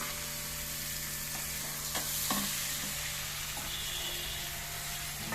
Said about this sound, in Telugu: ఇప్పుడు మనం రొయ్యలు కూడా వేసేసుకుందాం. ఎగ్స్ కూడా వేసేసుకుందామండి.